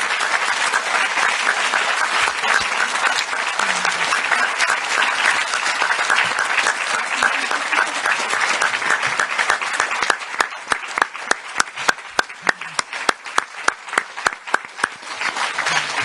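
A press room audience at an EU summit applauds steadily and warmly for about sixteen seconds. The dense clapping stays full throughout, and individual sharp claps stand out more distinctly in the later part.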